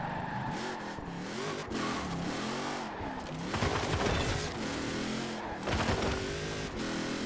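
A Jeep Gladiator in Forza Horizon 4 revs hard, its engine note rising and falling through several surges and gear changes, loud and close throughout.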